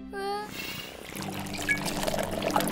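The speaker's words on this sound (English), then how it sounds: "Let's put in all the bubble mix." Liquid bubble mix pours and trickles into a container in a cartoon, a short wet gurgling stream that follows a brief musical flourish, with faint splashy detail.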